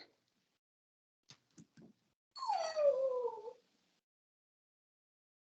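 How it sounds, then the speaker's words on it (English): A puppy gives a few faint whimpers, then one drawn-out, wavering howl that falls in pitch, heard indoors against near silence. "you will hear my puppy throughout this afternoon"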